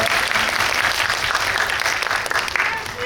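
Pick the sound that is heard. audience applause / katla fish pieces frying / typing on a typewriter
audience applause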